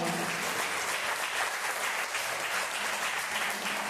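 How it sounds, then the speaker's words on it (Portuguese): Sustained applause from a church congregation fills the space, a steady dense wash of many hands clapping at even loudness throughout, with no voices standing out. "Você pode aplaudir o Senhor"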